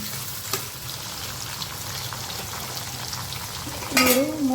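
Brinjal pieces fry with a little salt in a pan, a steady close sizzle running throughout, with a couple of sharp scraping clinks as the vegetable is stirred, the loudest near the end.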